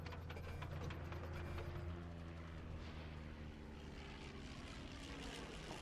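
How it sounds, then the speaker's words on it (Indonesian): A propeller airplane flies in the video game Down in Bermuda, its engine giving a steady, droning hum at a moderate level with no talking. "di sini kita sedang melihat karakter kita yang sedang menerbangkan pesawat"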